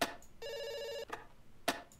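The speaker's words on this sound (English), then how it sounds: "It's ringing." A phone line ringing in the video game Dr. Langeskov, a buzzing ring tone held for about half a second between short clicks, heard alone and close.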